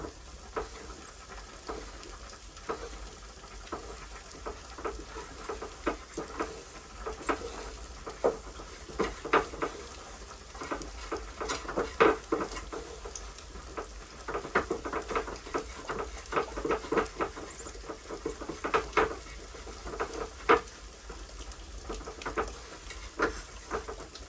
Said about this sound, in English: Yeah, the stew is really boiling